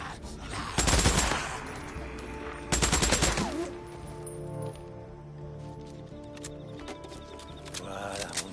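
Two short bursts of rapid gunfire from a weapon in the video game Days Gone sound about two seconds apart, loud and close, followed by quieter game ambience with faint clinks.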